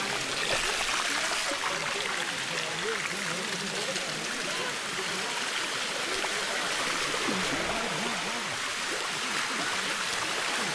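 Flowing stream water at Buatong Sticky Waterfall pours steadily and fairly loud throughout, a constant rushing wash with voices talking faintly over it.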